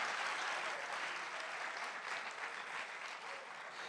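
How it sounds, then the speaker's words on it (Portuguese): A church congregation claps together during a sermon, a dense, even wash of hand claps holding steady throughout, moderately distant and without clear speech over it. "Se for para aplaudir, aplauda direito para Jesus, meu irmão."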